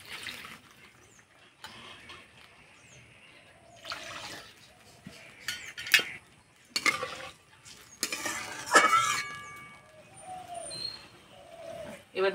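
Water poured into a pan of frying vermicelli on the stove, giving soft sizzling and stirring scrapes with a few clinks, fairly quiet, while someone talks over it.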